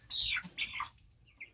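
Young chickens from two brooders, newly put together in one pen, squabble over pecking order with a few short, high chirps and squawks in close bursts, then quieter gaps.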